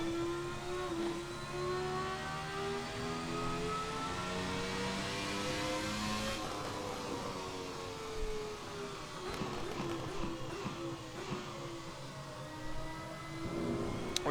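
A high-pitched Ferrari F300 3-liter V10 Formula One engine in a racing game whines continuously, its pitch climbing and dropping through gear changes, loud and steady for the whole stretch.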